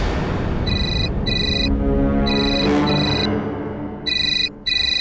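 A phone ringtone chirps in repeated electronic bursts over a low rumbling background, ringing on without being answered.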